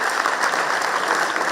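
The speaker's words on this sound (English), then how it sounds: "so we can give a hand clap for that." Loud, dense audience applause at a financial launch event, a continuous burst of many hands clapping close and full for under two seconds, with no talk over it.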